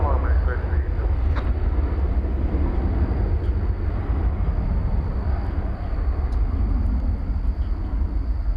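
A Boeing 737-800 airliner takes off at DFW Airport, heard as a loud, steady, broad jet roar that holds evenly from start to end.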